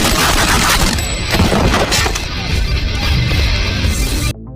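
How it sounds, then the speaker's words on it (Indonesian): Gunfire in a prison-break action film scene: dense, continuous bursts of shots and crashing impacts at loud level for several seconds, ending abruptly in near silence. "John dan Tommy ditembak oleh Ramzi dan gengnya"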